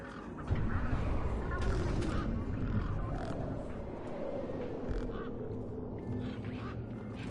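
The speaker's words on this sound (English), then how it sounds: "Those birds weren't going to let me anywhere near the back of the truck." Harsh cawing of several birds over a dense, noisy soundscape from the video game Beyond a Steel Sky, with low rumbling and growling tones, steady and fairly loud throughout.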